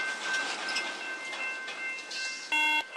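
A train starts moving and drags a car with people trapped inside. It gives a steady rolling rumble with faint rail clatter, then a short electronic tone bursts in near the end, with no voices.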